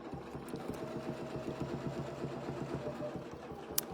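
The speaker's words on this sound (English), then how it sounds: "I'll just go ahead and double stitch this one right back up here" A sewing machine double-stitches a fabric seam closed, running close and steady with a fast, even rhythm of stitches for the whole stretch and no talking.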